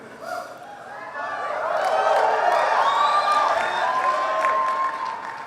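A political conference crowd at CPAC applauding and cheering, a dense swelling wash of clapping and shouts that builds and holds, with voices rising through it.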